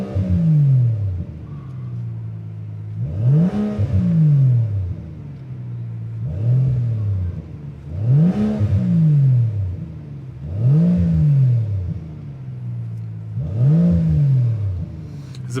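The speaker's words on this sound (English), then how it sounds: "The exhaust is already on, and I will be giving you a few revs" A Mansory-modified Rolls-Royce luxury coupe revving through its exhaust, six deep swelling blips spaced a couple of seconds apart over a low steady idle, loud and close with no talk.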